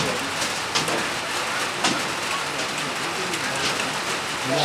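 Steady rain falls on an outdoor cricket ground during a club match, a dense even hiss with scattered drop impacts throughout, loud and close with no one speaking.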